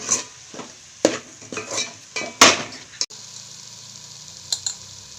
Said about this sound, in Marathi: मसाल्याला तेल सुस्तर असं परतून घ्यायचं आणि मग मटण टाकायचं